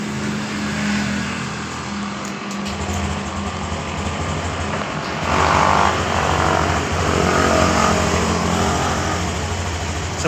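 A 2023 Honda Genio scooter with a sputtering fault and white smoke idles steadily up close, its engine note firming up partway through and running loud and continuous to the end.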